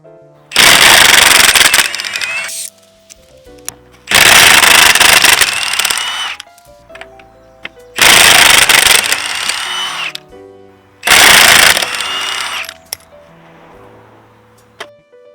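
On a 2005 Corolla, a pneumatic impact gun spins off the wheel's nuts in four loud, close bursts of roughly two seconds each. Short quiet gaps separate the bursts, and the last fades into faint hiss.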